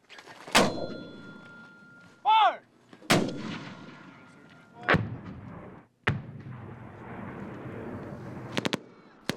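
Mortar unit firing live rounds during a military exercise: several sharp, booming reports spaced a few seconds apart, a brief whistle after the first, then a quick cluster of cracks at the end.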